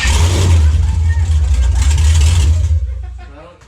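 A 2001 Camaro Z/28 with a Speed Engineering exhaust and cold air intake revs hard, a loud, deep, throaty roar that holds steady before fading away, with people talking nearby.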